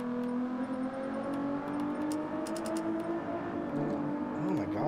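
Ferrari engine revving in the Gran Turismo 7 racing game, a continuous high-pitched mechanical whine with steady harmonic drone, loud and sustained, with small clicks and a rising sweep near the end.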